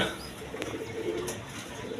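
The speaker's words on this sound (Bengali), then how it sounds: "এখানে এক পেয়ার জ্যাকোবিন কবুতর আছে দেখেন" A pair of Jacobin pigeons coos softly at close range, the low murmuring calls repeating steadily over a constant background hum, with a few faint higher chirps mixed in.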